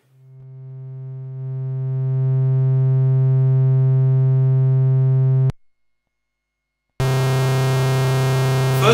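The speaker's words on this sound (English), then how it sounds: "it's obviously no longer a smooth, pure triangle wave, but rather a more buzzy square wave type of sound" A triangle wave from an oscillator fed through a chance delay module gives a steady, buzzy square-like tone that swells in and holds, cuts to silence, then returns rougher and noisier with a fluttering texture.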